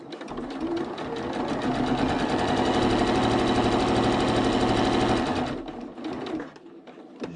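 A sewing machine runs steadily for about five seconds, stitching elastic onto a cotton face mask, its fast needle rhythm loud and close before slowing and stopping, leaving a quieter tail.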